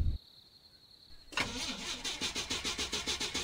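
A car engine in a video game turns over without catching. After a faint high tone and near silence, a sudden loud cranking begins, a rapid rhythmic churning pulse that repeats steadily and close without firing up.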